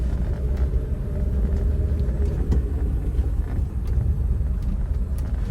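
Steady low rumble of road and underbody tyre noise from inside a moving 2001 Suzuki Karimun DX small car, continuous and fairly loud, with no talking.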